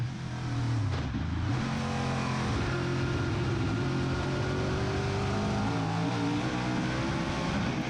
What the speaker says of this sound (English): Let's just have a listen to the car through 5, see if there's any wheel spin